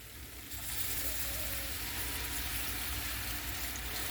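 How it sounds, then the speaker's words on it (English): Steady bubbling sizzle of water hitting a roux in a hot pan, starting abruptly and continuing evenly throughout, with faint scraping from stirring underneath. "I'm just going to add my water and stir at the same time."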